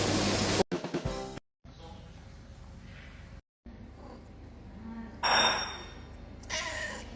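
A house cat meows a few brief, fairly faint times amid quiet household background noise, with one louder call near the end.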